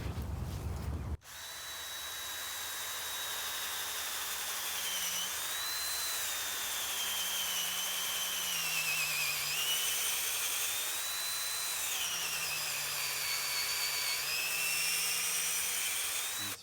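A power drill bores a tap hole into a backyard maple tree, whining steadily and loudly for about fifteen seconds, with slight pitch dips as the bit bites into wet wood.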